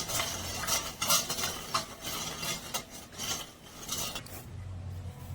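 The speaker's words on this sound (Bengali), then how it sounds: "এবার মিশিয়ে নেব।" Salt, brown sugar and water being stirred together in a bowl for dahi vada, a steady scraping and clinking of a spoon against the container in uneven strokes, close and moderately loud, with no talking.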